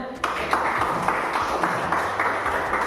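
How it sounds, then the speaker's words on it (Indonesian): Students in a classroom applaud their classmates after a group presentation, giving a moderate, rhythmic patter of hands under a teacher's voice. "Oke, tepuk tangan semuanya."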